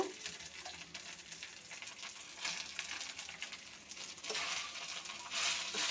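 Bottle gourd pieces frying in oil with ginger paste for a gourd and shrimp curry, a continuous quiet sizzle with brief surges as the pieces are stirred, close and without talking.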